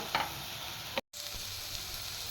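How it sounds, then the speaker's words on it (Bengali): A pot of pasta being stirred as it cooks, a broadband hissing, bubbling wash with a couple of soft scraping knocks near the start, a brief dropout, then continuous bubbling texture close by. "আমি এটা 5 মিনিটের মতন, একটু 5-7 মিনিট নাড়াচাড়া করে একটু সেদ্ধ করে নেব।"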